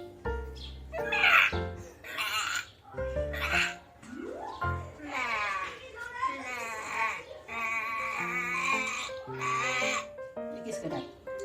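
A person imitates a goat's bleat in a funny animal sound effect challenge, producing a series of wavering, nasal bleats, some of them drawn out, in short bursts separated by pauses.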